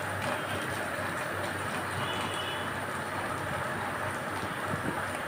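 Black chickpeas fry in a little oil, making a steady, close crackling sizzle that stays constant throughout, with no one talking.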